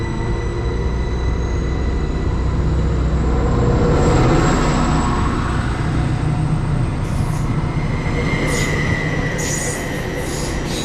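Class 755 unit 755417 departs Roughton Road station on the Bittern Line toward Cromer and Sheringham, a loud, steady rumble of wheels and motors close by, with high squealing tones rising near the end and no talk over it.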